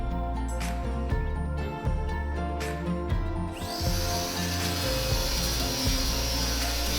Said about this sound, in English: the tool I'm using is a basic paint stripping wheel for the angle grinder